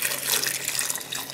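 Tap water pours steadily into a cooking pot, a continuous close rushing splash with no voices.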